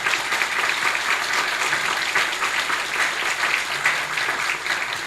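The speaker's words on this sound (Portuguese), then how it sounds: "Palmas mais uma vez." An audience bursts into sustained applause at an evening gathering honoring an army general, thick even clapping from many hands filling the room at steady loudness.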